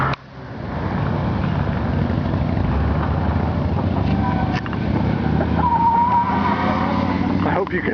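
A 1984 Dodge Ram truck spins a donut in floodwater, its engine revving loud and continuous with splashing and tire noise, while voices talk and laugh over it.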